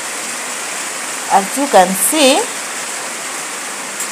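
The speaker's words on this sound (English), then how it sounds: "It's really raining, and this is the situation here." Heavy rain pours steadily in Kisumu, Kenya, a constant broadband hiss across the whole clip, with a person talking briefly over it partway through.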